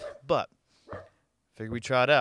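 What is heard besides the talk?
dogs barking, wiener dogs running on a deck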